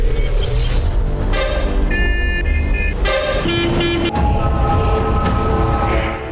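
Car horns honk repeatedly in busy road traffic, with several overlapping sustained blasts and short toots of different pitches over a steady roar of engines.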